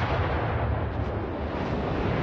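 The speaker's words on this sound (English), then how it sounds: "Concentrate fire on the designated target." Heavy naval gunfire from warships in the World of Warships game, a continuous dense roar of overlapping cannon blasts and rumbling booms, loud and sustained with no talking.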